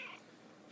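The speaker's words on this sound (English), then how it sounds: "You're such a talking kitty." A kitten gives one drawn-out meow that lasts under a second, close by and fairly quiet, with no talking over it.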